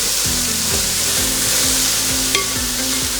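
Sliced onions sizzle steadily in a hot pan, loud and close, while a spoon stirs them with repeated scraping strokes through the constant frying hiss.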